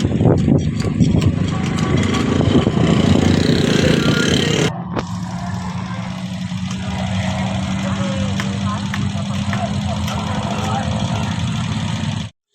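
A motorcycle engine idles steadily and loudly up close, its rumble continuing unbroken for over ten seconds before cutting off abruptly.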